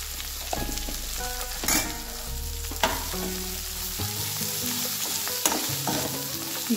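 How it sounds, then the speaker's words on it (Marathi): Chopped okra sizzles steadily in a hot pan for a Maharashtrian bhendi bhaji, with a spoon or spatula repeatedly scraping and stirring through it in close, clear strokes and no talk. "आता यात चिरलेली भेंडी घालायची"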